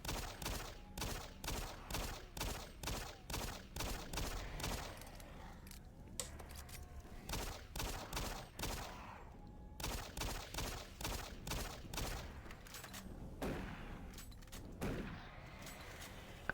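Gunfire, probably a shotgun, aimed at a Hell Baron in the video game Doom 3: loud, close bursts of rapid repeated shots, broken by a short lull before the firing resumes.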